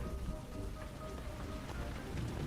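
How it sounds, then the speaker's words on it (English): Heavy rain pours steadily onto a backyard, a dense continuous hiss and patter with no gaps, close and fairly loud throughout. "Ignoring the pouring rain."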